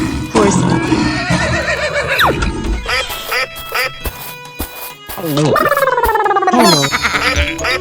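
A cartoon horse neighs in loud, quavering whinnies, with two long neighs near the start and end separated by bursts of playful squeaks and cartoon effects.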